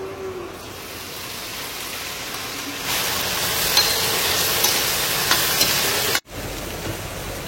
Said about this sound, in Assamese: এতিয়া মই ভেন্দি ভাজিব লৈছো